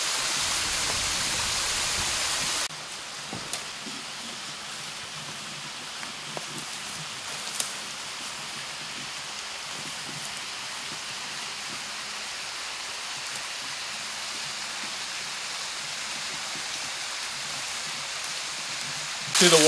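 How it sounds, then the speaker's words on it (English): A year-round waterfall at Project Canaan gives a steady, soft rushing hiss that carries on without a break, with a louder burst of rushing water at the start and a few faint knocks and taps over it. "To the waterfall at Project Canaan. This waterfall is year-round. The water flows over year-round."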